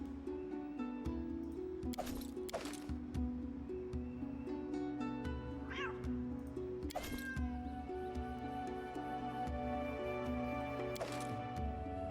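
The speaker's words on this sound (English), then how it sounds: "I heard a cat." A cat meows several times over a steady, looping game soundtrack. The cries are moderately loud and spaced a few seconds apart, some drawn out into wavering calls.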